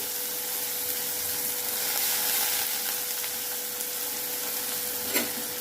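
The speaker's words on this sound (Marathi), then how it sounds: "कांद्याबरोबर भाजून घेणार आहोत तेलामध्ये" Dried fish and onion fry in oil in a pan. A continuous, moderately loud sizzle holds steady, with one small clink near the end and no voices.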